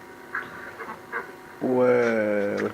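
Native ducks kept in a small backyard rearing setup, a few soft calls followed by a loud, drawn-out nasal quack close by, with faint talk in the background.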